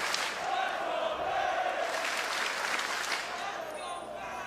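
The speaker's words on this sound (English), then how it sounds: "you hear the FaZe chants starting to get going" Crowd at an esports championship finals chanting for Atlanta FaZe, a loud sustained roar of many voices swelling and rising in waves, with some rhythmic chant in the mix.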